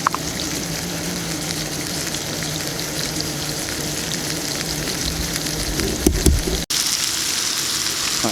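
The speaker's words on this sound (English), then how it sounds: "Let that sizzle away." Steady, loud sizzling of steak frying in a hot pan, continuous crackle throughout with a brief clunk near the end.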